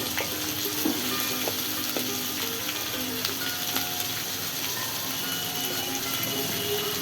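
Potato curry is stirred in a hot pan after salt and turmeric go in, a constant loud sizzle and frying hiss with scattered scraping strokes throughout.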